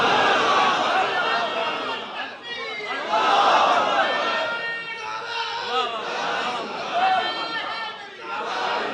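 A large crowd at a Mehfil e Naat gathering in Manchester chants religious slogans in unison, swelling and falling in loud waves of many voices, close and continuous.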